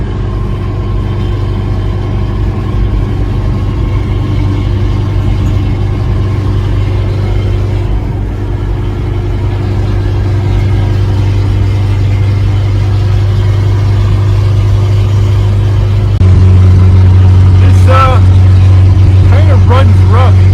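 A Vauxhall Victor engine running rough at highway speed, a steady loud droning rumble throughout that deepens in the last few seconds, with a voice speaking briefly near the end.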